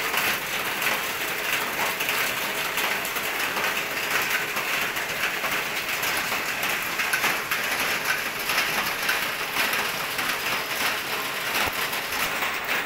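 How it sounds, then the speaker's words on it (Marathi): Heavy monsoon rain pours steadily in Kerala, a dense, constant hiss with no pauses for the whole stretch, close and fairly loud, with no voices over it. "जोराचा पाऊस आला मित्रांनो."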